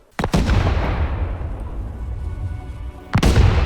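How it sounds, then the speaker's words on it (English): Heavy gunfire and deep booming blasts from the survival video game Rust roll on continuously, with two sharp loud reports at the start and end over a rumbling low barrage. "Constant gunfire."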